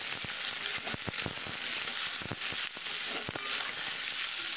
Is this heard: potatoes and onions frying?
yes